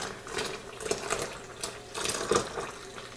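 Home-brewed all-grain IPA wort poured back into its vessel during a one-gallon batch, a close splashing trickle with a few brief surges and no talk.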